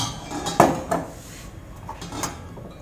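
Bronze ladles and metal utensils clink against each other as they are handled, a few sharp metallic taps and scrapes close by, fairly soft overall.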